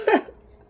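A single short cough, close and fairly loud, fading quickly into quiet.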